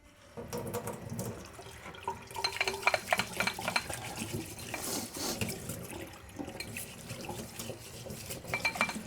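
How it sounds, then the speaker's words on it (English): A plate being washed under a running kitchen tap, water splashing and trickling steadily with clinks and scrubbing rubs of the dish, close by and without any talk. "I have to wash my plate because that's the plate I'm going to use for my dessert"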